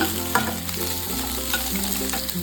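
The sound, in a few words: capsicum and onion frying in a pan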